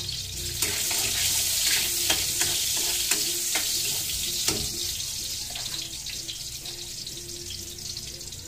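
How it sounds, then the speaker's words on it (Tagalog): Garlic and ginger sauté in a pan with a steady sizzle and hiss, broken by scattered scraping clicks from stirring, fairly quiet throughout and with no voices. "Igisa mo tayo ng bawang. Igigisa ko para mabango."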